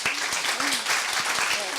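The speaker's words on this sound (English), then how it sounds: "Give her a round of applause, guys." Applause from a student audience for a young woman who just shared her story, a short burst of clapping with a few voices mixed in.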